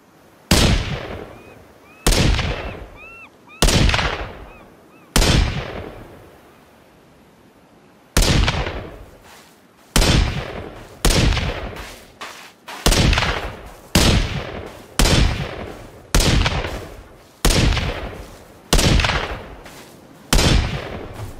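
A gun fires repeatedly in the video game Sons of the Forest: loud, sharp single shots, each with a short decaying tail, spaced a second or two apart, around a dozen in total.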